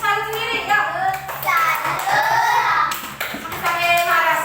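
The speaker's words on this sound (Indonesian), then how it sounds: "Tepuk tangan untuk kelas 3." A class of third-grade children claps their hands together in a classroom, with young voices chanting loudly over the clapping throughout.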